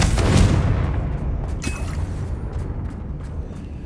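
A Confringo spell blasts in the Hogwarts Legacy video game: a loud, booming fiery explosion bursts at the start, then rumbles and fades over a few seconds.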